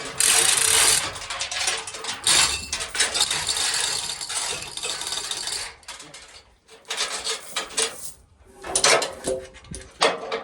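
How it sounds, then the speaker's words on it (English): A winch hauling a half-ton log onto a sawmill, loud bursts of rapid mechanical clicking and ratcheting that stop and start with brief pauses between pulls. "We have a winch that works."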